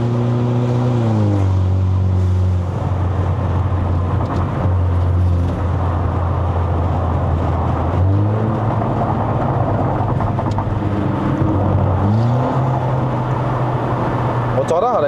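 A Mercedes-Benz W212 E250 AMG Line engine pulling uphill on a mountain road to Genting in Malaysia, heard from inside the car, steady loud drone with several rising rev sweeps and gear changes.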